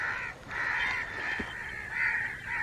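A crow caws in a series of harsh, repeated calls during a goshawk hunt, loud and fairly close against quiet outdoor background noise.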